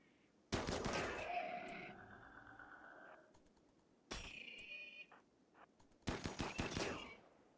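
Bursts of rapid automatic gunfire in a video game, coming in three separate volleys with brief pauses between them, fairly close and sharp against a quiet background.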